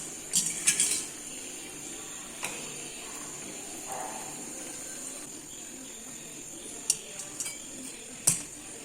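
Light clinks and taps of utensils against a dish as a fried banana snack stuffed with filling is served, with a few sharp metallic knocks scattered over a faint hiss and no talking.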